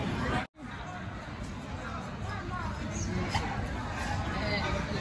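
Crowd chatter on a street at night in Scalea, Italy, a steady murmur of many overlapping voices and footsteps, fairly close and continuous, briefly cut by a short dropout near the start.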